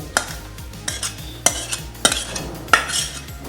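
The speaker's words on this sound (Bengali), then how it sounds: "এই যে আমি এখন ঢেলে দিচ্ছি আচারটাকে" Thick jelly-like elephant apple (chalta) pickle is scraped out of a pan, a series of sharp metallic spoon-on-pan knocks and scrapes spaced about half a second apart, with a faint sizzle underneath and no talking.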